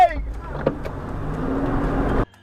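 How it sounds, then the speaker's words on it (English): A car engine revs and drives as an electric power window whirs up, with a muffled voice in the mix; the steady mechanical drone fills the clip before cutting out near the end. "Acting on pure adrenaline, Brian slammed the car into reverse, buying precious seconds to roll up his window"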